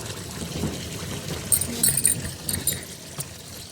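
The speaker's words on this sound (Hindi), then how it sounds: "तो अभी तो मैं पानी भर ही रही हूँ" Clean water pours steadily into a tub being filled for washing clothes, a continuous splashing trickle that grows louder and more agitated midway, with light metallic clinks.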